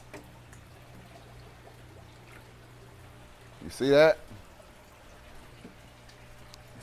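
An aquarium pump dropped into a tank sends up a brief, loud burst of bubbling and gurgling water that lasts about half a second, set against a quiet background with low hum, while a voice speaks briefly.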